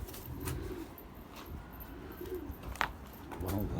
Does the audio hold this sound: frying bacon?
no